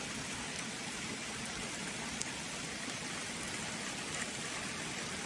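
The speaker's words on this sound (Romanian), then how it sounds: "cred că plouă pe lângă noi pe undeva." Rain falling outdoors near a house, a steady, even hiss of drops with no pauses or voices, fairly faint and continuous throughout.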